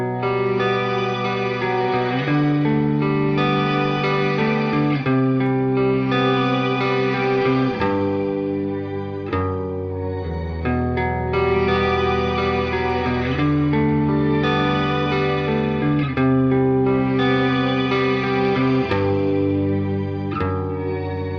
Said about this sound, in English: This is a fantastic sounding reverb pedal.